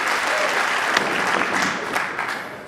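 A crowd at the 2023 US Open nine-ball pool semi-final breaks into loud, sustained applause after a shot, clapping steadily before beginning to taper off.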